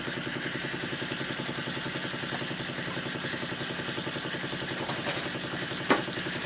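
An antique Empire toy steam engine runs steadily, giving off a fast, even mechanical chugging with a thin high whine above it. The sound stays close and holds at a constant level throughout, with no talk.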